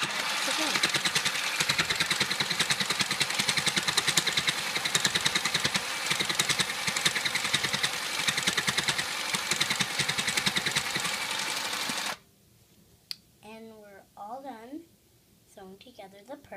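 A sewing machine stitching a purse runs loud, steady and close for about twelve seconds with a fast mechanical whir, then stops abruptly and a person starts talking.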